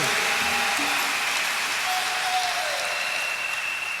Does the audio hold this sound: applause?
yes